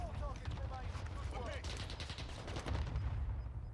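Gunfire in the Warzone Pacific battle game: rapid, fairly faint bursts of automatic shots and pops in the background, with people talking over them.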